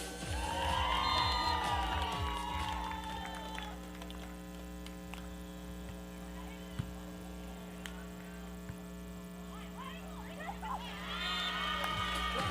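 Crowd cheering at a beach volleyball national championship women's gold medal match, a burst of shouts and cheers at the start and again at the end, with quieter crowd murmur and steady hum in between.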